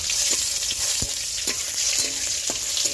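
Tengra fish fry in oil in a pan with a constant close hiss of sizzling, while a spatula stirs and scrapes with periodic knocks against the metal.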